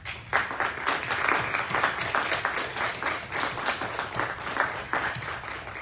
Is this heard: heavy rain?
no